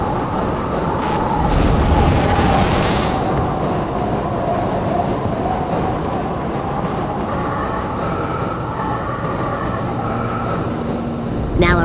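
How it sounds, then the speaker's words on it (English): In Half-Life: Opposing Force, a train rumbles into a station with a loud, steady rolling drone, brief hissing and metallic squeal, and tonal screeches as it slows, while an announcer-style voice is heard over it. "Do not attempt to open the doors until the train has come to a complete halt."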